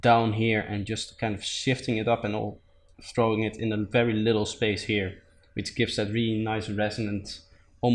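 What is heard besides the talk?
No everyday noises stand out.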